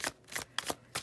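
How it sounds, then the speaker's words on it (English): A tarot deck is shuffled up close, giving four quick papery riffles spaced evenly in a quiet room with no talking. "All this shuffling, I feel like you're getting some good ASMR, Group 2, from all this shuffling."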